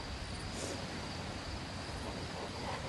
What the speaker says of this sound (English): I hear a cricket.